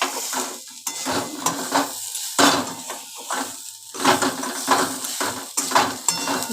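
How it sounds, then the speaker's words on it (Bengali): Grated coconut frying in a pan with snake gourd and potato, stirred steadily, a close, continuous sizzle broken by repeated scraping and clinking strokes of the spoon against the pan. "নারকেল কোড়াটা মিশিয়ে দিয়ে একবারে এর সাথে ভালো করে ভেজে নিচ্ছি"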